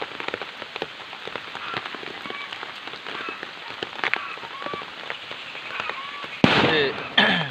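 Rain patters steadily on the ground with scattered sharp drops and ticks, ending in a louder, closer burst of splashing near the end.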